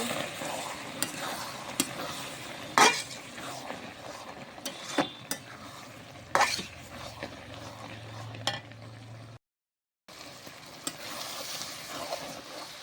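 Beef tripe sautéing in a pan with homemade ground spice powder: a steady close sizzle with repeated scraping spatula strokes, then a brief cut to silence before the frying resumes.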